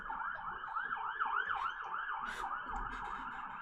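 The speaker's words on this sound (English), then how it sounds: "I think that's an ambulance." An ambulance siren wails in a rapid rising-and-falling yelp cycle, repeating steadily at moderate distance with no talk over it.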